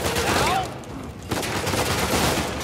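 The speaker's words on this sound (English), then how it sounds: "저거 AK다, 야. AK SMG다, 야. 우지다, 우지." Rapid AK and Uzi submachine-gun fire in Uncharted 4 rattles out in loud, dense bursts that briefly drop away before another heavy volley erupts.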